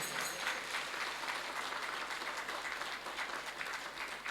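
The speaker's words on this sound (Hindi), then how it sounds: "सभी लोग ताली बजाइए" An audience at a Bhagwat Katha gathering claps together in a fairly quiet, steady round of applause, with individual claps blurring into a continuous patter that holds for several seconds.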